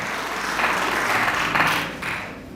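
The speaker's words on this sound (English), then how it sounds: "Just give her a big round of applause." An audience at a student debate event applauds the best female debater, a steady wash of clapping that swells in the middle and fades slightly at the end.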